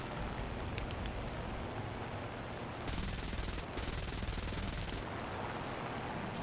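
Rounds striking the player's aircraft in War Thunder under bombing runs come as a dense rattling hail of hits, with two sustained bursts of fire over a constant loud engine roar.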